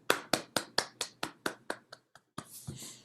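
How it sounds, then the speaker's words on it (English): After a lecture on deep learning for arrhythmia detection with wearable devices, a small audience gives a short round of close, distinct claps that quickly thin out to a few scattered final claps. "Let's give Jessica another round of applause"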